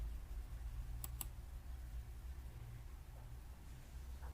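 Two quick, faint computer mouse clicks close together, made while saving a trim in YouTube's video editor, over a low steady background hum.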